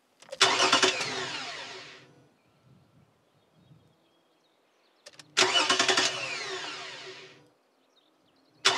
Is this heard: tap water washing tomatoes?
no